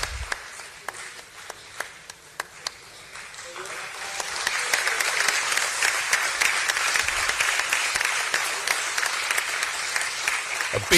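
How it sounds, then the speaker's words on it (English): A large crowd gives a sustained round of applause at a stock market listing ceremony for Jio Financial Services, starting as scattered claps and swelling into dense, steady clapping that continues to the end. "A huge round of applause, ladies and gentlemen."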